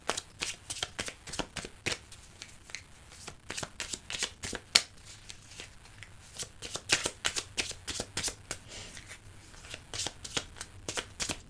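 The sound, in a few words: shuffling tarot cards before drawing one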